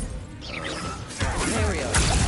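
Bombarda and Descendo spells blast in the Hogwarts Legacy video game, with whooshing casts, crashing impacts and swirling magical effects layered over a dense game soundscape, loud and close.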